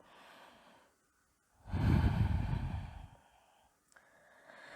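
A single long, deep breath drawn in and let out slowly during a yoga downward dog pose, close and fairly loud, with quiet before and after.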